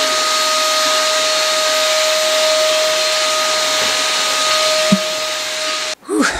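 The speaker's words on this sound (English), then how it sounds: "now I got some vacuuming to do" During home renovation cleanup, a vacuum cleaner runs with a steady whining hiss and a high tonal hum, then abruptly cuts off near the end with a clunk and winding-down rattle.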